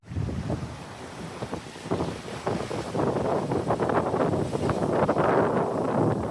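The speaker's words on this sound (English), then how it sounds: "Nice sailing as we are passing by Cape Caution." Steady wind rush and water noise aboard a Cabo Rico 42 sailboat under sail past Cape Caution, a continuous broadband roar that builds slightly over the few seconds with no talking.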